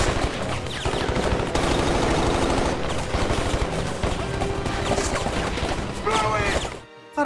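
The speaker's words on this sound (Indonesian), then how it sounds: "Para tentara yang melihat jenderalnya mati, mereka langsung menembak ke arah Barney CS secara membabi buta" Soldiers firing machine guns wildly in an action film about mercenaries fighting a dictator's army, with dense, continuous loud bursts of automatic gunfire and crashes filling the scene under a music and effects mix, cutting off abruptly near the end.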